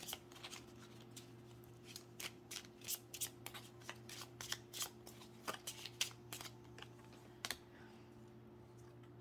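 Tarot cards shuffled and drawn from a deck, a quick run of crisp riffling snaps and card slaps, close and fairly loud, with short pauses between bursts and no talk.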